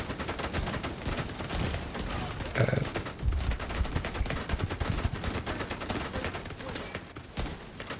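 Rapid bursts of video game gunfire crackle almost nonstop, dense and loud, with a few heavier thumps mixed in.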